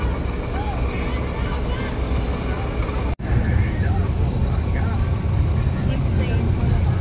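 Steady road traffic rumble heard from inside a vehicle in slow traffic, continuous low engine and road noise throughout with a brief dropout midway and faint background voices.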